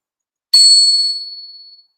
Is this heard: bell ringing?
yes